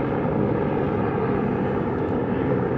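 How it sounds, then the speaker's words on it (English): A stock Ford Maverick Lariat on thin pizza-cutter tires tears across off-road desert terrain, its engine a dense, continuous roar with heavy low rumble and wind noise, loud and close throughout. "Ford Maverick, stock Ford Maverick Lariat on pizza cutter tires, or rubber band tires"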